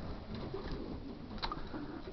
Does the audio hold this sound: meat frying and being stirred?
no